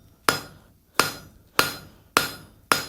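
Five sharp, evenly spaced hammer blows ring out close and loud as a hot forged iron scroll is flattened on an anvil, each strike followed by a short decaying ring, with no talking.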